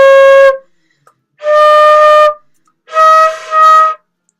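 Flute plays a short sequence of sustained notes, the opening half of a major scale, in separate phrases with brief pauses between them, clear and close.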